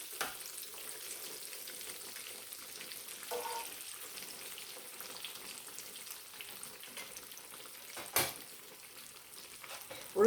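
Battered chicken fried chicken sizzles in hot oil with a soft, steady crackle, quiet and continuous, broken by a couple of faint clinks near the end.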